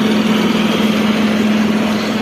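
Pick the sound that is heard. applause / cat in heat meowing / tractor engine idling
tractor engine idling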